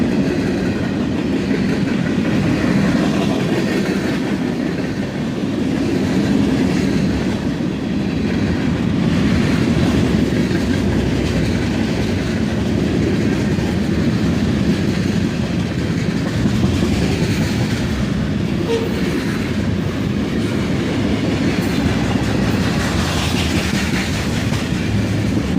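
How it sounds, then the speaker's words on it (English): A CSX freight train of empty gondola cars rolls steadily past at close range, a continuous loud rumble with rhythmic clickety-clack of wheels over rail joints and no voices. "Now we have some empty gondolas."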